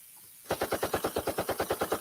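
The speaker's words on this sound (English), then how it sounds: "Can you hear the gunshot?" A gunshot sound effect breaks a brief silence as a rapid, evenly spaced burst of automatic fire, about sixteen loud cracks in steady rhythm that run to the end.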